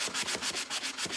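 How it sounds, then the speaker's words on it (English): Sandpaper rubs back and forth over a wooden Dollar Tree canvas frame in quick, even strokes, about eight scratchy passes close up with no talking. "So I'm just kind of sanding it just a little"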